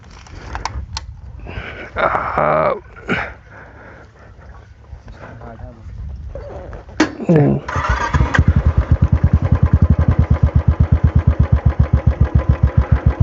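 After some voices and handling noises, a Royal Enfield Thunderbird 350X motorcycle engine starts and settles into a loud, close, rapid rhythmic idle.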